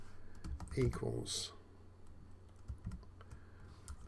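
Keystrokes tapped on a computer keyboard while coding, with a burst of quick taps near the start and scattered single clicks afterward, heard close and mostly under a man's speech.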